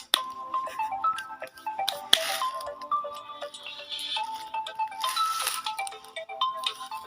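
A mobile phone rings with an incoming call, playing a stepping electronic melody that repeats for several seconds. It is clear and fairly close, with small clicks and knocks in the background.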